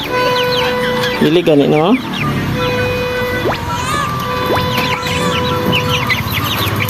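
Heritage chickens cluck and squawk nearby in a busy, continuous run, with a rooster-like call rising briefly near the start and a person speaking over the flock.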